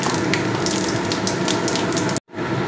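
Panch phoron spices sizzle in hot oil while a Bengali fish tok is cooked, giving a loud, steady hiss close by that cuts off abruptly near the end. No one talks.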